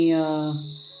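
Crickets chirping at night form a steady high-pitched trill in the background, partly masked by a brief tonal hum or voice-like sound at the start that fades, leaving the insect chorus alone.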